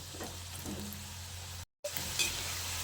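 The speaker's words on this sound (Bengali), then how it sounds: "কালার ধরিয়ে কাবাবগুলোকে ভেজে নিতে হবে" Soya bean kebabs frying in oil, a close, even sizzle with light crackle that carries on steadily, cut by a brief moment of silence before resuming.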